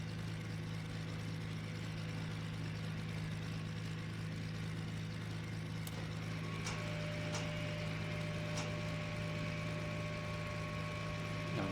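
A Beech BE60 Duke twin-engine aircraft in Flight Simulator X idles steadily with a low, even engine hum and a constant tonal drone, with a few faint clicks near the end and no talking.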